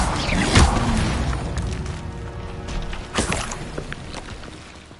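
Incendio fire spell cast in Hogwarts Legacy on PS5, a sharp whooshing burst followed by a second flaring burst and a fading rumble.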